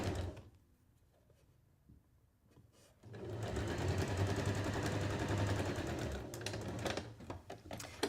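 A sewing machine stitches locking stitches through quilt pieces, quiet at first and then a fast, close, steady mechanical rattle that runs for several seconds, without talk.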